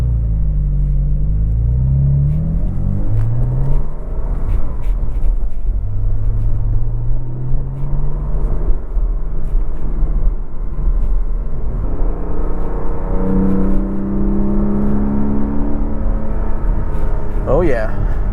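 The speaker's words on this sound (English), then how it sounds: "Oh yeah, that induction noise." A Porsche Cayman engine drones and rises and falls through its gears, a deep throaty intake sound up close, with a person speaking over it at times.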